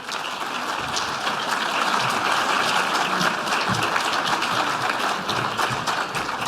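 Audience at an agricultural policy seminar clapping, dense continuous applause from a roomful of people filling the space loudly and evenly for several seconds.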